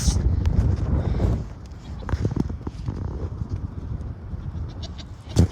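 Goats at a large goat farm bleat briefly amid shuffling, hoof sounds and other farm animals, while a person talks over them up close.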